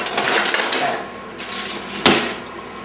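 A metal spatula clatters against a platter and pans while cooking flank steak bruschetta, a few quick scrapes and clinks with one sharper knock near the end, heard close and without talk.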